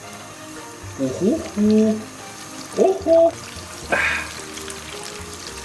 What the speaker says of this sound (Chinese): 然后咱们把鸡腿下进去